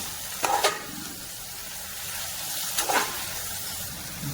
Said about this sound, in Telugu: ఆ క్యాప్సికమ్ వేసుకొని బాగా కలుపుకోవాలా